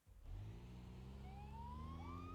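Police cars rev at a race start in BeamNG.drive, with a deep rumbling engine drone swelling in and faint rising siren tones beginning to wail over it.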